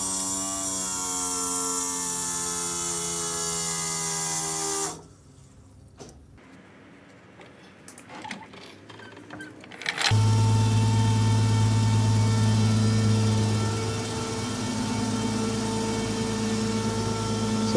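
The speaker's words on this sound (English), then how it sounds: "As you could tell, that fuel pump was pretty loud" A newly installed aftermarket fuel pump runs with a loud, steady electric whine and hum, cuts out into near quiet with some handling noise, then starts again and drones on continuously.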